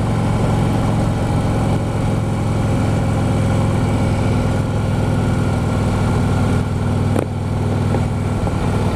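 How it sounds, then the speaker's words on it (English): Harley-Davidson Road King motorcycle with aftermarket pipes idling close by, a steady deep low rumble held throughout with one brief sharp knock near the end. "His Road King sounds amazing."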